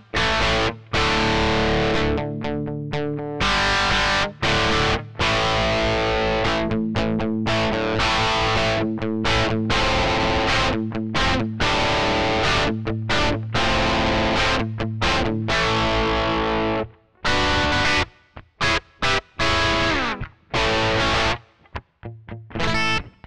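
An electric guitar runs through the Behringer XR18/X32 built-in amp simulator with distortion and reverb, playing loud chords and riffs with sharp stops and gaps between phrases.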